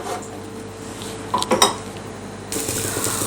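Ragi and green moong dosa roasting on a pan after a drizzle of oil, with a few clear metal clinks of a utensil against the pan midway and a quiet, steady sizzle that swells near the end.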